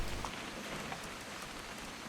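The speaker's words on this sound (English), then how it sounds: "It's gonna rain the whole weekend, isn't it?" Soft, steady rain falls on surfaces in the video game What Remains of Edith Finch, a faint, even hiss with scattered drops and nothing else audible.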